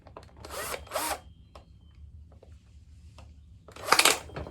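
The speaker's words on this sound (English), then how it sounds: "Now I'm gonna try to drill this with just a little hole drill, but sometimes drilling this thin plastic," A small hole drill bites into a thin plastic feeder container in short whining bursts, two close together early and another loud burst near the end, with quiet handling noises in between.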